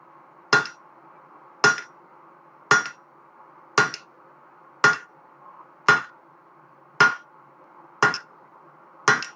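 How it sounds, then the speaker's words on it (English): Slow, heavy hammer blows on hot steel while forging a hammer eye, about nine sharp ringing strikes spaced roughly a second apart, each with a brief metallic ring, close and alone without talk. "hammer blows with a lot more effort"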